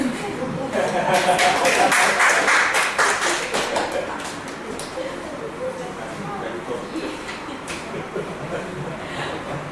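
Audience applause at a Toastmasters club meeting, a burst of many hands clapping that swells early and then thins out, with voices talking over the tail.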